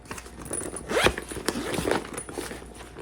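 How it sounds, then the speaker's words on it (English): A zipper on a compartment of an ECHSRT leakproof lunch bag is pulled open in several quick rasping strokes, close and fairly loud, with no talking. "the lunch bag itself contains 3 zippered compartments"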